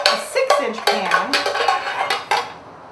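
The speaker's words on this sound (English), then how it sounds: "I'm going to grab an 8-inch pan, and then I'm going to grab a 6-inch pan." Metal 8-inch and 6-inch round cake pans are picked up and handled in a kitchen while cake decorating, making repeated close, bright clanks and scrapes in an irregular rhythm, with no speech.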